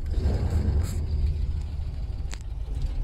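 A car pulls away after being shifted into drive, its engine a close, steady low rumble with some road noise and a few brief higher clicks over it.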